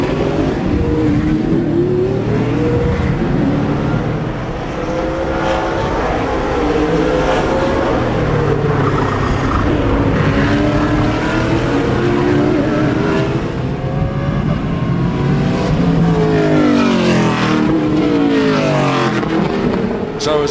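Speedcar Series race cars in a 2008 race at Sepang International Circuit near Kuala Lumpur, engines roaring loudly and continuously, revving and shifting as the cars pass, with no talk heard over them.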